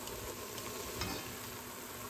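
Lean 90% ground beef cooks in a pan with a little oil, giving a low, even sizzle and faint stirring scrapes at close range, steady and fairly quiet throughout.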